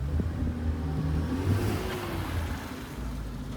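A BMW 332i drives away with a steady low engine rumble that builds slightly mid-way, heard from nearby on a residential street.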